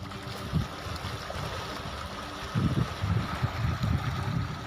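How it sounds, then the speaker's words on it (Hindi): Fast-flowing floodwater rushing past during heavy rain in Delhi, a steady broadband wash of moving water with surges and low splashy pulses growing stronger in the second half, heard alone without voices. "देखिए कि सामने बिल्कुल मेरे इस तरफ बाढ़ है और पानी का जो बहाव है"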